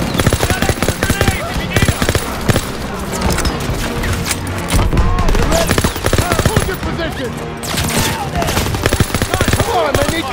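Sustained machine-gun bursts and rifle fire from a Call of Duty: WWII firefight in the Stronghold mission, loud and continuous with dense rapid rattling and occasional impacts, and voices shouting over the shooting.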